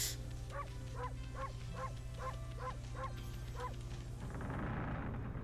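In the video game Okami, a dog gives a quick run of about eight short, rhythmic barks over a constant low background hum, then the barking stops and a soft hiss swells at the end. No one speaks.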